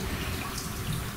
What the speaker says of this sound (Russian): Душ грунтовой воды становится все более частым.